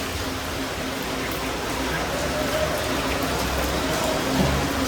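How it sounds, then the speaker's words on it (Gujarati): Steady hiss of rain falling on surfaces during Navratri in Porbandar, continuous and even, with a faint murmur of voices underneath. "મિત્રો વરસાદ હવે થોડોક ઓછો થયો છે"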